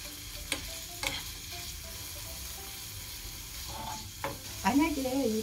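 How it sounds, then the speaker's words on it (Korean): Garlic frying in boiling oil over medium heat, a continuous sizzle with a few sharp utensil taps and a louder bubbling burst near the end, no talking. "이 기름에다가 마늘을 이렇게 볶아줘 볼게요"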